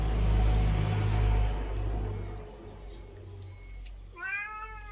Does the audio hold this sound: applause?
no